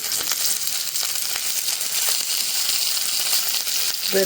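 Onion, garlic and chili fry in a pan, giving a loud, steady, dense sizzle with crackling pops throughout, close and continuous.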